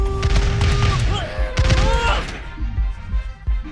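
Musket volleys and battle noise in the video game Totally Accurate Battle Simulator, with loud bursts of gunfire and crashes mixed with game tones and shouting voices throughout.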